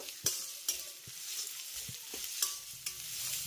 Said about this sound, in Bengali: এই পেঁয়াজটাকে আমি এই আদা রসুনের সঙ্গে জাস্ট 1 মিনিটের মতো একটু ভেজে নেব